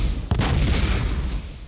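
A grenade explosion in the video game DayZ, one sudden loud boom followed by a rumbling, decaying roar that fills the rest of the moment.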